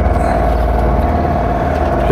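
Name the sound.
sailboat's engine running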